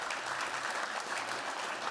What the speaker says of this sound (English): I want an applause for him as well.